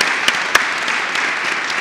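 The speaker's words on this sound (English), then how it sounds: "this gentleman deserves a round of applause, so if you will join me" Audience applause in a hall, a steady wash of many hands clapping at moderate volume through the whole stretch, with a couple of sharper individual claps standing out.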